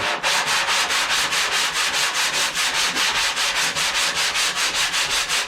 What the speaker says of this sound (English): keep your sanding block flat. Take long strokes